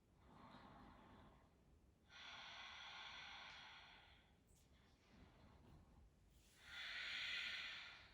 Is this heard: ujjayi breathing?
yes